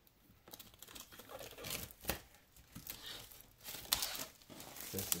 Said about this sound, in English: Let me cut that a little bit.